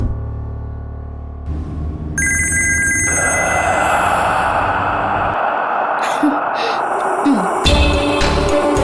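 A telephone rings with bright repeated electronic trills over a dramatic music score in a Tamil TV serial scene, with brief sighs and breaths alongside.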